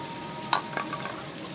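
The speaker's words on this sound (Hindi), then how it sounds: "और दही के साथ भी भूनेंगी यकीनन कुछ देर" Chicken frying with yogurt in a karahi, a soft steady sizzle with one sharp clink of a spoon against the pan and a lighter scrape after it, heard close and fairly quiet.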